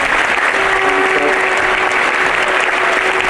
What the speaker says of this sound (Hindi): जोरदार हर्ष ध्वनि के साथ, तालियों के साथ परम पूज्य गुरुदेव का